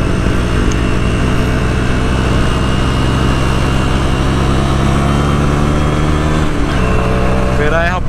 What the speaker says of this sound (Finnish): tämähän kiihtyy 125.